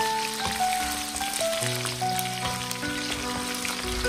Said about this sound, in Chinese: 油热后加入葱姜大蒜八角桂皮还有干辣椒， 再快速的翻炒几下